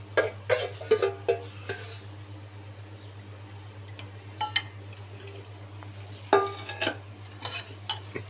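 A spoon stirs boiled tamarind pulp into chili powder in a bowl for a meal maker pickle, with scattered metallic clinks and scraping strokes in two busy bursts, close by and with no voices.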